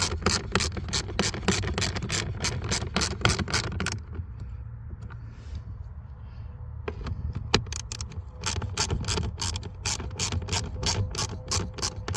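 A ratchet tightens screws on the AC HVAC blower of a 2010–2014 S197 Ford Mustang, rattling in fast, close clicking runs that pause briefly in the middle with faint handling noise before resuming.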